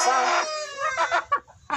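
Naked neck hens clucking and squawking nearby, a loud drawn-out cackle followed by a few shorter clucks, with no talk over it.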